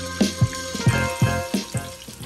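Seafood egg rolls frying in an uncrowded pan of hot oil, giving a steady close sizzle with repeated soft bumps and clatters as they are turned or moved, no talking.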